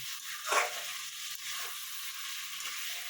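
Chicken kofta or chicken pieces frying in a pan, an even, moderately loud hiss of sizzling oil with a couple of soft stirring scrapes.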